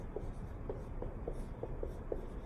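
A marker or pen writes out an algebra slope formula, producing a series of short, evenly spaced strokes and taps up close, with no one talking.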